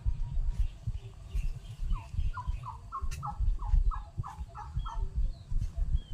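A turkey gobbles in a quick descending warble, standing out over a low rumbling outdoor background.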